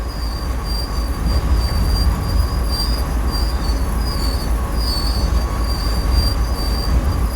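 A CSX 8221 locomotive rolling along in Train Simulator 5, a steady loud rumble of rail wheels with a continuous high squeal and tonal hum running throughout, no voices.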